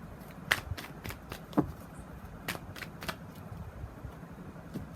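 Tarot cards are shuffled and pulled from the deck, a series of soft close riffling flicks and slides at an uneven rhythm, quiet and alone.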